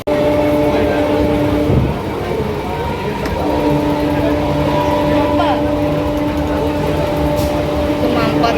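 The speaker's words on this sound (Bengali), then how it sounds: "এই ট্রেনটা মনে হয় ভিড় হবে" A crowded commuter train near Dum Dum and Agarpara runs with a loud, steady rumble and a sustained humming whine, and a brief clank partway through.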